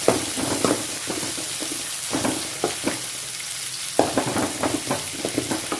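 Onions frying and sizzling in a pan while being stirred with a spoon, a steady sizzle broken by scraping stir strokes at irregular intervals, close and clear with no talk.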